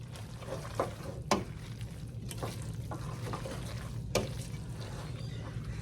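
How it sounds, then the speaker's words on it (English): Pasta carbonara with peas stirred in a pan over medium heat, a soft continuous sizzle and scraping with a few louder utensil knocks against the pan. "we're gonna keep cooking this over medium heat, just to cook the rawness out of the egg"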